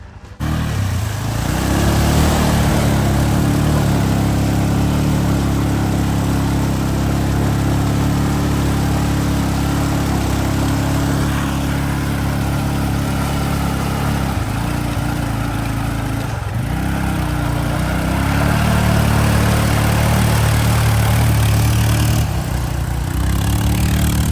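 A Yamaha Grizzly ATV engine revs hard and steadily throughout while mud bogging, a loud, sustained mid-pitched roar with slight swells in throttle and no talk over it.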